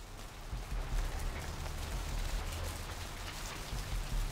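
Rain falls steadily in the video game Vampire the Masquerade Bloodlines, a dense, even hiss of drops with a low rumbling undertone, continuous and fairly loud, with no voices.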